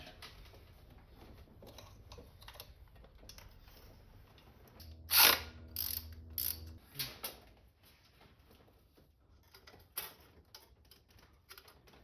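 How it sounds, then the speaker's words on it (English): A wrench works on bolts of a 2001 Toyota Tacoma 3.4 V6 engine during knock sensor replacement, giving a loud metallic clank and a burst of clicks and ratcheting near the middle, with faint rustling before and after. "And then we'll get them with the wrench."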